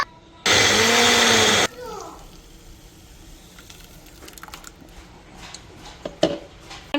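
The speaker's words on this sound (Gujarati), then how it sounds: "હવે એને અહીંયા મિક્સરમાં ક્રશ કરી દઈશું." A mixer grinder crushing soaked lentils and rice whirs loudly for just over a second, then stops, leaving quiet room sounds and a few light clinks.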